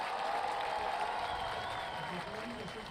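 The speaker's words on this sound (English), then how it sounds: "Let's, big round of applause." Applause from an audience honoring an Orlando police officer, a steady wash of clapping that stays moderately loud with voices mixed in.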